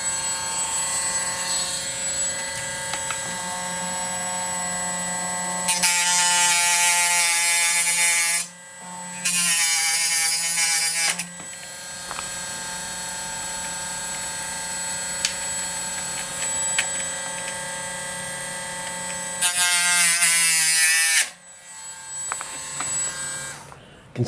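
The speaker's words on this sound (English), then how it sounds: "And now we can go ahead and trim the push rods. Got my Dremel with a cutoff wheel." A Dremel fitted with a cutoff wheel trims push rods for an RC glider fuselage, its steady high-pitched motor whine running throughout, with three loud bursts of grinding as the wheel bites into the rods.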